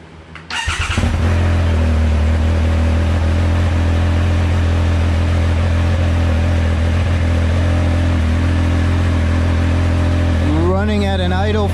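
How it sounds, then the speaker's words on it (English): A Triumph Speed Triple 1200RS fitted with an SC Project CRT muffler starts from cold, cranking briefly then catching into a loud, steady, close idle; a voice talks over it near the end. "I'm gonna fire up the bike."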